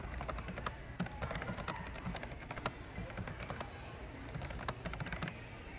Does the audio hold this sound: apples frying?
no